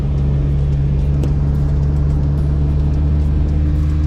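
Car driving on the undeveloped side of Cozumel island, Mexico, with a steady, loud engine drone and road rumble held throughout, close and continuous, without talk.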